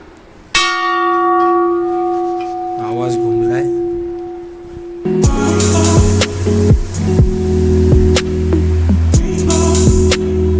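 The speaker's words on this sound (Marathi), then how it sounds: "अशी भली मोठी इथे घंटा आहे" A large bell at a Shiva temple on the old Mumbai–Pune road is struck once, its long ringing tone decaying. Then a rapid series of loud, overlapping clangs rings out close by, with a voice faintly heard between strikes.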